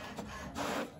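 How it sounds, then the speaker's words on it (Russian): A home printer runs quietly and steadily, a soft continuous mechanical whir and rub with a slight swell partway through, with no one talking over it. "У нас теперь есть принтер."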